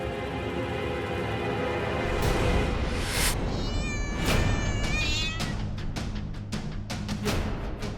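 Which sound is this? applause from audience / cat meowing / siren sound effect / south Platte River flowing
cat meowing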